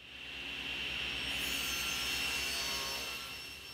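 A saw rips lengthwise through a heavy plywood sheet while building a bookcase, giving a steady, loud whining cut with a low motor hum underneath that holds for several seconds and eases off at the end; no one talks.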